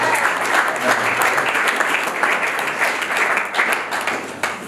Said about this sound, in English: give a clap. It's easy to clap.